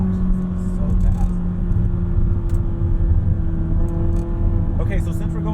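A 2020 McLaren 600LT Spider drives with its back window down, its engine a steady low drone under wind and road noise, with a few brief higher whines and clicks near the end.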